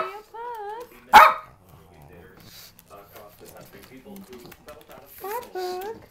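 A Pekingese dog gives one sharp, loud bark near the start while people talk nearby.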